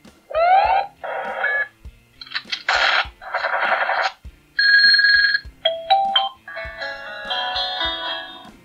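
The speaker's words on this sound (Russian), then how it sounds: "Вот есть рингтоны" Ringtone melodies previewed on an Aqara G3 smart camera, a series of short electronic tone jingles played one after another, each with a different pattern, clear and alone.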